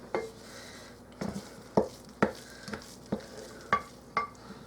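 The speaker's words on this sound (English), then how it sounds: "This is mixing pretty good." No-knead dinner roll dough being mixed in a bowl, giving a run of soft, wet slapping and squelching hits at an uneven pace, fairly close and quiet against a faint room hiss.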